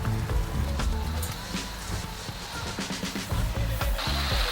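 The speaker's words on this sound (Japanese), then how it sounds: "すごい雨の音だね。" Heavy rain drums on the roof of a camper van parked at a highway service area during a typhoon, a dense steady patter heard from inside with faint low knocks and rumble throughout.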